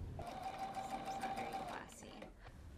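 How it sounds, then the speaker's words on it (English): A sewing machine stitches a T-shirt seam in darker thread, a steady fast whirring run of under two seconds that then stops, heard quietly beneath a talking voice. "I'm sewing with a little bit darker color so you can see what I mean when I'm done."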